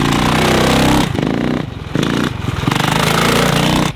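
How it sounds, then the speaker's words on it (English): A dirt bike engine lugging a gear too high, a low, labored chugging at low revs that dips and bogs down in short stretches before pulling again, loud and close with no talk. "If you're a gear too high and lugging the bike"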